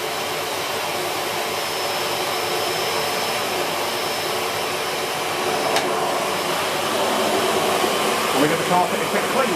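A Miele S7 upright bagged vacuum cleaner runs steadily over carpet, a loud continuous motor whir holding for the full stretch and swelling slightly toward the end, with no talk over it.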